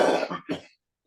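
A couple of harsh coughs close by, a longer burst followed by a shorter one, then silence.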